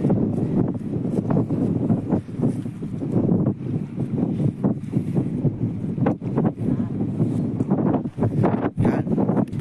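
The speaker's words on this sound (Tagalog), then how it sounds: "Mas malakas yung hangin eh." Strong wind buffets the microphone in loud, uneven gusts while fishing outdoors, a continuous roaring rumble with no clear talk over it.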